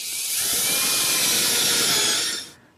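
Power drill driving a pocket screw into oak cleats: one close, high steady whir lasting about two seconds before stopping abruptly.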